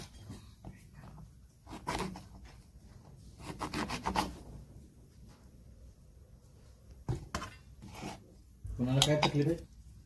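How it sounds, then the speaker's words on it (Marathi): Brinjals being cut into four pieces with a knife, sparse close clicks and scrapes of blade and board in bursts, with a clatter of utensils near the end and quiet gaps between. "पहिला आपण वांग्याचे असे चिरून घेऊया आणि असे त्याचे 4 भाग करायचे।"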